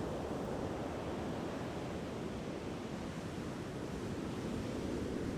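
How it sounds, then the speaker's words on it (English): Strong wind roars steadily on a beach at Little Talbot Island State Park, Florida, with a hissing rush like nearby surf mixed in, continuous and loud with no voices. "It's so windy."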